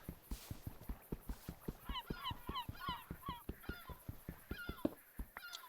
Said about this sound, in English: Ah, the sound of seagulls and crows.